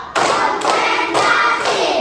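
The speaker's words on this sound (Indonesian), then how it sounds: "Tepuk satu. Tepuk dua. Tepuk tiga. Tepuk empat." Schoolchildren in an elementary classroom clap hands in unison, a few sharp, close group claps spaced evenly in a counted rhythm.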